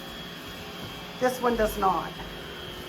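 A robot vacuum whirs steadily in the background while a person speaks briefly over the constant mechanical hum.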